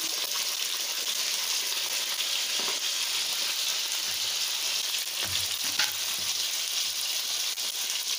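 Potatoes frying in a pan, an even, bright crackling sizzle heard up close, with a few faint scrapes and bumps partway through and no voices.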